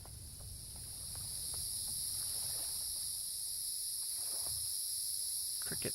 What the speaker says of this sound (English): Cricket sounds are so great.